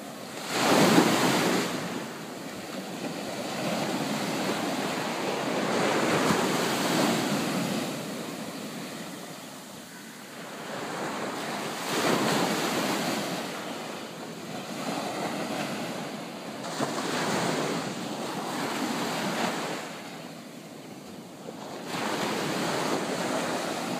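Ocean waves breaking on a beach on a quiet day, surging and receding in slow swells about every five to six seconds, with steady wind noise over the microphone and no voices.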